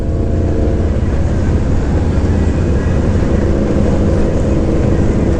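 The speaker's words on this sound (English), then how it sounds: "A massive motorcycle right now." Massive motorcycle with loud pipes at the Sturgis rally, a heavy continuous low engine rumble, loud and close, holding steady throughout with no speech over it.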